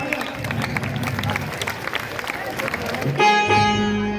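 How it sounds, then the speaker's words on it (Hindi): Audience applause at an outdoor Ramlila performance in Chinhat, a crowd clapping steadily with babble for about three seconds before it gives way to a sustained tonal sound. "तालियों से स्वागत कीजिए, तालियां।"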